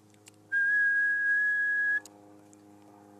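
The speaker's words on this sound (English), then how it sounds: "just whistle into it with a real high pitched whistle" A single high-pitched whistle held steadily for about a second and a half, sent into a ham radio push-to-talk microphone, loud and clear against faint background hum.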